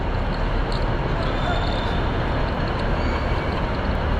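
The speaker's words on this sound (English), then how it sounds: "So these are all the overground trains." Overground trains at Glasgow Central Station give a steady, loud rumble with broad noise filling the concourse, continuous throughout, with indistinct crowd murmur mixed in.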